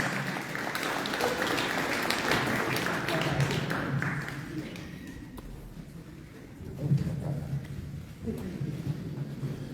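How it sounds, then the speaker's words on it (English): Audience applause and clapping at a spooky-stories gathering in the Pawnee Nation Roundhouse, a dense wash of many hands lasting about four seconds before thinning into scattered claps, murmurs and voices. "Let's clap for him."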